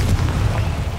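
A Confringo blasting spell goes off in Hogwarts Legacy, a deep low boom rumbling steadily through a single second with no clear sharp onset.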